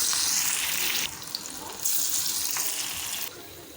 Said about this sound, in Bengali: তেলটা গরম হয়ে গেছে, দেওয়া হচ্ছে একটা একটা করে।